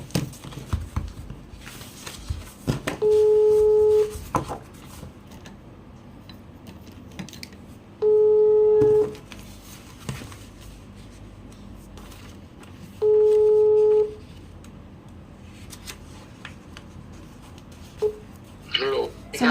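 Telephone call to a fortune teller: three steady ringback tones about five seconds apart on the line, with someone talking throughout and faint clicks in between.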